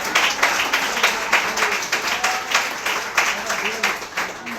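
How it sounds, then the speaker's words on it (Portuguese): Congregation applause at a Nova Vida church service in Catete, dense steady clapping across the hall, loud and sustained with faint voices mixed underneath. "Uma salva de palmas ao Senhor."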